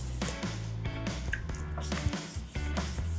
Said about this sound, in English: A little more water on this.